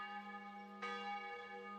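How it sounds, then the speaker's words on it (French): A church bell in Alsace rings the Angelus, a faint, sustained metallic tone with ringing overtones and one fresh strike partway through, heard alone at a distance. "L'Angélus et tout ça, ça fait partie de nous."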